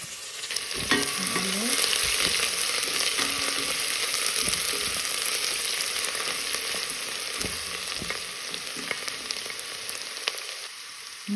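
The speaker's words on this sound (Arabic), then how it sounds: "هلا بنباشر بإضافة البصل المفروم مربعات" Diced onion sizzles steadily in a hot pot for lentil soup as a spoon stirs it now and then, a loud, continuous frying hiss with occasional scraping, close by and with no voices.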